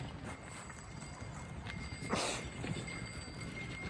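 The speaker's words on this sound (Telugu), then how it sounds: "అటు చూడండి గుర్రాలు వస్తున్నాయి" Horses walk along a snowy mountain trail in Poland, their hooves clip-clopping steadily against a constant wash of outdoor noise and wind.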